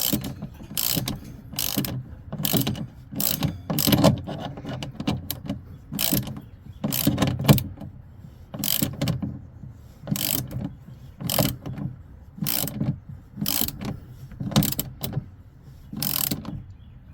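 Hand ratchet tightening a connection on a Victron 300A smart shunt battery monitor, repeated bursts of quick clicking strokes in an uneven rhythm, close and clear, with short pauses between bursts and no talk.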